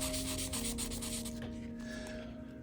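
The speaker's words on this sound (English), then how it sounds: "going to buff this out with the sandpaper for quite some time" Steady wet sanding with 1500 grit sandpaper on a deeply gouged acrylic display, a continuous close rubbing hiss with faint tonal hum behind it, easing slightly toward the end.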